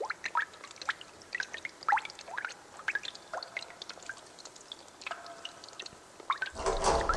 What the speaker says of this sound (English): This is the sound of droplets.